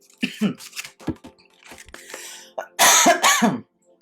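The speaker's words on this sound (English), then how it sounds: "Sorry, I keep on coughing." A few sharp, loud coughs burst out near the microphone after some quieter throat sounds and breaths.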